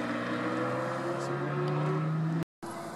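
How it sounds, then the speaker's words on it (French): A Porsche 997 GT3 and a Renault Mégane 3 RS pull away from the Magny-Cours circuit exit, a continuous engine drone with a rising tone rolling past nearby, cut off by a brief dropout near the end. "Une 997 GT3 devant une Mégane 3 RS."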